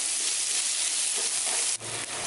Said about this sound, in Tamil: வெங்காயம் நல்லா பொடவ வர வரைக்கும் வதக்கி விட்டுக்கோங்க.